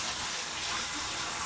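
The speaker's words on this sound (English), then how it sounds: "And we're adding water." Water gushes steadily from a tap into a cooking pot holding gizzards for a Puerto Rican escabeche. The pour is a continuous, close, hissing flow with no talk over it.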